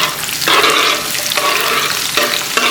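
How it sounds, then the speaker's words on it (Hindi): Onions dropped into a pan of hot oil on a stove, giving a loud, dense sizzle that surges in waves as they are stirred, with no talking. "इसके अंदर हम प्याज डाल रहे हैं।"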